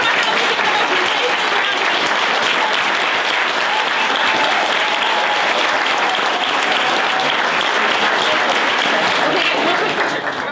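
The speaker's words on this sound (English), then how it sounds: "round of applause." A large audience at a public library's Battle of the Books event breaks into dense, steady applause that fills the whole stretch at full strength before starting to fade at the very end.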